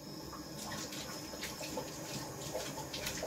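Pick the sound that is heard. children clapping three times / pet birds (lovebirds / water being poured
water being poured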